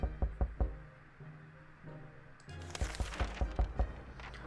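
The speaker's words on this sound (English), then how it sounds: "Oh, I heard a knock." Knocking at a door in the survival game 60 Seconds, a few quick raps followed later by a louder run of repeated knocks amid game sounds.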